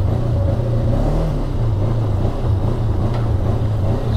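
A Segway Fugleman UT10 six-seat utility vehicle rumbles along with a steady low engine drone, the pitch rising and falling slightly, with wind buffeting over it and no talk.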